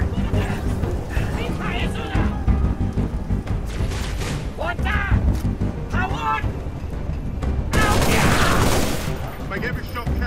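Sustained gunfire in Halo Reach: rapid, dense bursts of shots roll on throughout, with a louder volley near the end, while shouted voices and combat chatter come through over the shooting.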